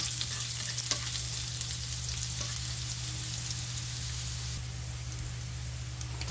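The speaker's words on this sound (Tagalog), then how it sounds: "Magisa-gisa na tayo ng ating sibuyas, bawang." Onion and garlic sauté in a frying pan that was used earlier to cook tofu, giving a steady, close sizzle with a constant low hum underneath and occasional faint stirring clicks, and no voices.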